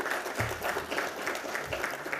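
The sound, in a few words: audience applause for the Indian Navy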